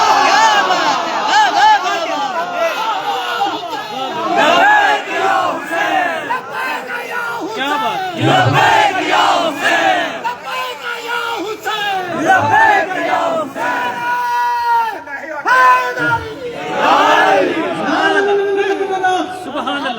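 Crowd at a religious gathering chanting slogans in call-and-response waves, loud massed voices rising and falling in repeated bursts over twenty seconds, with shouts and chatter mixed in.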